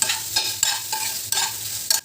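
A spatula scrapes and stirs meal maker soy chunks in a hot frying pan, four or five rhythmic sweeps over a soft sizzle, close up.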